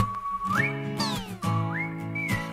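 A clear, tuneful whistle slides upward and holds a high note, repeating the rising phrase twice over a steady low background hum.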